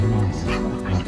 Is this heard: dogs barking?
yes